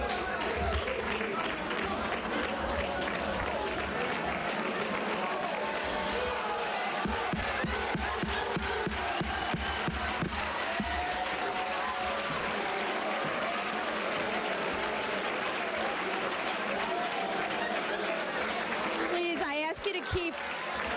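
An audience at a press club claps and calls out during a question-and-answer session, continuous dense applause and crowd noise with voices shouting comments over it.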